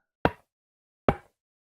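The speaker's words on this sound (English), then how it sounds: "Personally, I reckon the new sounds of bone blocks breaking would work well for that" Two bone blocks from Minecraft breaking, heard as a pair of short, hollow, knocking cracks about a second apart, each decaying quickly into silence.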